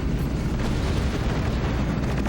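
Fighters being shot down in the Battalion Wars video game, heard as a dense, continuous rumble of explosions with low booms and crackle that stays loud throughout.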